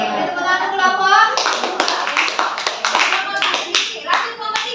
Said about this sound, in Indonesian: Oke, tepuk tangan kelompok.